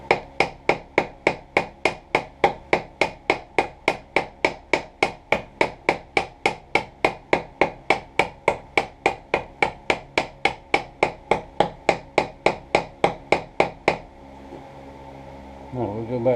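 Hammer striking a chisel while shaping an Air Force pilot survival knife, a long steady series of sharp metallic blows, about three per second and close, before they stop and faint handling noise follows.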